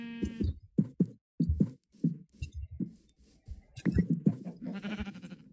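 Sheep in the Minecraft video game bleat repeatedly, with short bleats in an irregular rhythm, fairly close and mixed with other game sounds.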